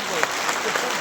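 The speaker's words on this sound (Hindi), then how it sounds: "एक बार जो अपनी देसी ताली बजा कर है नहीं उसमें स्वागत कर दो दोनों का" Traditional desi-style applause welcoming two ministers' sons at a village gaushala gathering, a dense wash of crowd clapping with a voice audible underneath.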